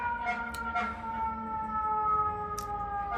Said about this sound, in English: That's crazy, the sirens.